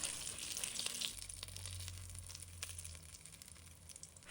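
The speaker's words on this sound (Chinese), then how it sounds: "水分大致蒸发后，油滋滋作响的声音会变得明显" Oil sizzles faintly under pan-fried cabbage and meat dumplings as the last water evaporates, a soft, steady crackle with scattered small pops.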